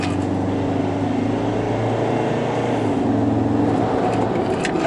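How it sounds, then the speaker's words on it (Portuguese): The diesel engine of a Mazda BT-50 pickup weighing 2,200 kg accelerates under load, a steady, loud drone heard from inside the cab, with no talking over it. "Agora, eu quero ver como é que esse motor aqui desempenha"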